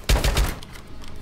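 A quick burst of three or four close, sharp gunshots in the video game Rainbow Six Siege, followed by a brief fading tail.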